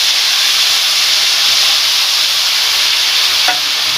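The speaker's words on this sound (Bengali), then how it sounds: "পাঁচ ফোড়ন দিয়ে দিলাম তেলের মধ্যে এবার প্রত্যেকটা সবজি এর মধ্যে দিয়ে দেব" Vegetables and half a small spoon of panch phoron (five-spice) sizzling in hot oil, cooked for a cauliflower-stem dish: a steady, loud, close hiss and frying crackle that runs unbroken throughout.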